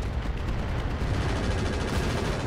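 Mech weapons firing in the RogueTech battle game, a dense, continuous barrage of booming gunfire and impacts, loud and sustained without letup.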